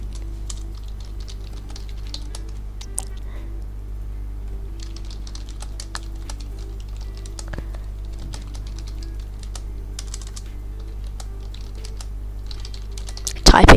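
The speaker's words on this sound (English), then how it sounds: "Typing noises." Typing on a computer keyboard during a flight-simulator session, a quiet, irregular patter of key clicks over a steady low hum, ending with a brief louder knock.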